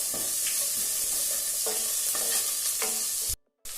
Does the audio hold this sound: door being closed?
no